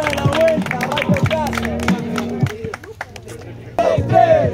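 A crowd at a freestyle rap battle claps and cheers in scattered bursts, with a voice calling out over the noise and a second burst of applause near the end.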